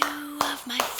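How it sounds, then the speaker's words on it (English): Three sharp hand claps, evenly spaced and close by, ring out during a fitness class while a voice speaks underneath. "give yourselves a big round of applause"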